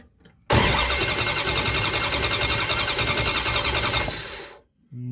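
A small engine cranks over continuously for about three and a half seconds after a spark plug check, a steady loud churning whir that never catches, then cuts off into silence.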